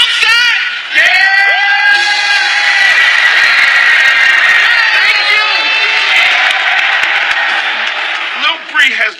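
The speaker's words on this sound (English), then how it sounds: "Has the whole crowd going crazy." A crowd at a live rap performance cheers and screams continuously, very loud and close, with whoops and yells blending into a roar that tapers off near the end.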